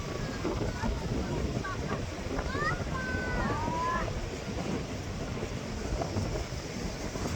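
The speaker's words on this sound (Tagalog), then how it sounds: "Medyo mahangin lang." Gusty wind buffets the microphone on Daytona Beach, Florida, with faint surf and a few high bird-like chirps in the background; a voice talks briefly.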